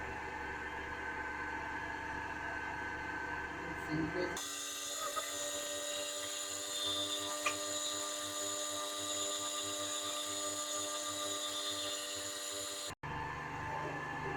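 A DC motor coupled to a DC generator runs steadily at 1500 rpm on a control systems lab bench, giving a continuous whine with many steady tones that shifts in character partway through and then briefly cuts out.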